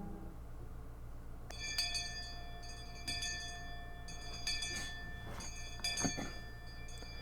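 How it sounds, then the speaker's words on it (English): A school bell chiming to mark the end of lunch break, a series of bright, ringing tones struck repeatedly over a low steady background hum, moderately loud, with no talk. "I heard the ring of the bell declaring the end of lunch break."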